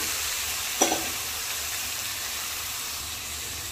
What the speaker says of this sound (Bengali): এবার আমি এখানে দিয়ে দেব মেখে রাখা মাছটা, একসাথেই ঢেলে দিলাম